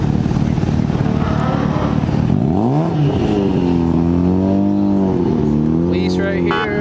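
A Dodge Viper accelerating at a street roll-racing event: a loud engine whose pitch climbs, drops between shifts, then pulls steadily over a noisy roadside crowd, with voices and other engines in the background.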